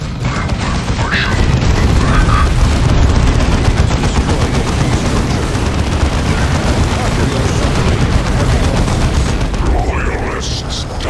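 Sustained gunfire in the Warhammer 40K Dawn of War II: Chaos Rising battle, loud and dense, with rapid rattling bursts and booms running continuously under shouted voices.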